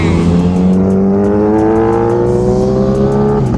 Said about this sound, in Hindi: आज ना गाड़ियों की भी ड्रैग रेस चल रही है, ये चेक करो भाई, भाई साहब एग्जॉस्ट लगा रखे हैं इनमें भी